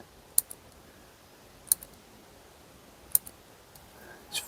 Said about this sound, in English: It just is such a beautiful pencil, and the click,